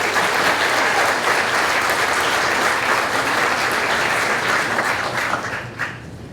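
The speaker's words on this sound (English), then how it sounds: "Big round of applause." Loud, sustained applause from an audience at an annual chamber awards celebration, dense clapping filling the room and tapering slightly near the end.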